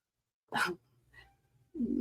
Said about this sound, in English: The kitty is yelling at me.